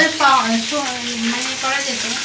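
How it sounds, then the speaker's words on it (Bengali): Chicken frying in a pan at an outdoor picnic, a steady hot sizzle and bubbling hiss running throughout, with a voice speaking over it. "আর এখানে গরম গরম ভাজা হচ্ছে"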